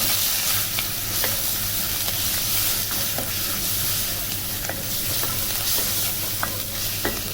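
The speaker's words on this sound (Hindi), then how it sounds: "अब इसमें हम पहले डालेंगे लहसुन अदरक पेस्ट।" Garlic ginger paste frying with browned onions in a karahi for chicken namkeen karahi, a steady dense sizzle with occasional stirring scrapes and pops, close and continuous.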